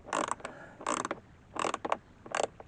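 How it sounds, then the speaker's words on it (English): Bolts being tightened on the instrument binnacle of a Lotus Excel dashboard during interior refitting: four short bursts of ratcheting, creaking mechanical clicks at a steady rhythm, close and fairly quiet. "So I'm just doing up all the bolts that connect the instrument binnacle to the dashboard."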